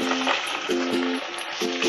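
Fried idli are stirred into chilli sauce in a hot pan, making a steady close sizzle with a rhythmic scrape of the spoon every half second or so.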